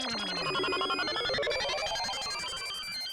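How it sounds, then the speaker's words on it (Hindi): A mobile phone ringtone plays alone as a busy, layered electronic melody with descending and rising tones, moderately quiet and continuous for a few seconds. "ये किसका मोबाइल बजा?"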